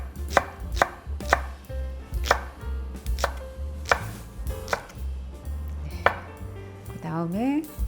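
A knife chops thick green onion on a cutting board, with about ten crisp, evenly spaced thunks close by and a faint clatter near the end.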